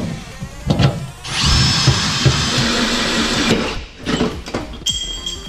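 A power drill runs at low speed boring mounting holes in a 2017 Ford F-150 during a CNG bi-fuel conversion, with a short burst followed by a steady close whir of about three seconds and lighter clicks and handling noises around it.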